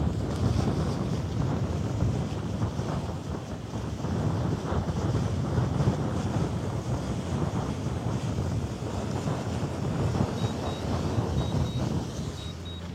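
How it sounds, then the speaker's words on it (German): Strong wind roars across the microphone at a harbour where ships are being watched, a loud, continuous rushing buffet with faint water and boat sounds beneath, no speech. "Ja, Wind hat leider noch mal so ein bisschen zugenommen und in der Höhe ist er ja dann eh etwas stärker."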